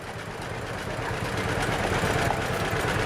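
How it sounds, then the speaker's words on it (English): A 1951 tractor idling at the start of a festival tractor parade, a steady low rumbling engine with a rapid chugging pulse, fairly close and continuous. "next we have start of the Lyle Graff Tractor Parade."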